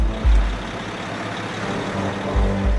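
Logging truck rumbling slowly across a narrow bridge in Gabon, a steady low engine drone with heavier surges near the start and end, loud and close with no voices.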